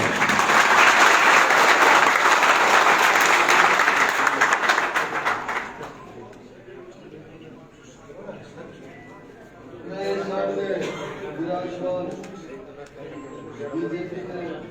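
A crowd at a political party workers' meeting breaks into loud, dense applause that fades after about six seconds, followed by someone speaking over a public address system.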